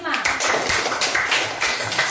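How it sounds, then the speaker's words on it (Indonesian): Classroom applause for a student group after a presentation: dense, steady clapping from many students fills the whole stretch, with a busy, crackly texture and no pauses. "tepuk tangan dulu buat kelompok 5"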